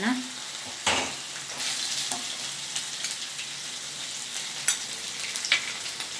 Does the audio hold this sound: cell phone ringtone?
no